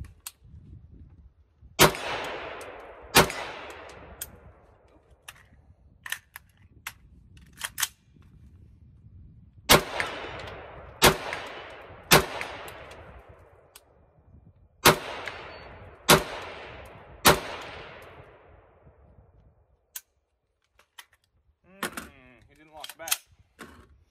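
An 11.5 inch Faxon rifle with a mid-length gas system fires about a dozen loud, sharp shots, singly and in quick pairs with irregular pauses, each with a ringing decaying tail.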